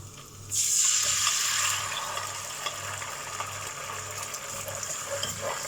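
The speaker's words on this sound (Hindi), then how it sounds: "अब चिकन को एक साइड करके इसी में 3 अंडा डालना है" Three eggs cracked into a hot pan beside chicken for chicken fried rice, bursting into a loud sizzle that settles into a steady frying hiss with light clatter, close by and without talk.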